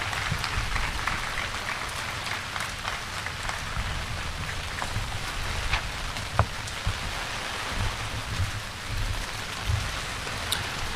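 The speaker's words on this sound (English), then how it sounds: "How about a round of applause for Mr. Hauser?" Sustained crackling applause from a crowd at a high school graduation ceremony, dense and even throughout, heard from a distance at moderate volume.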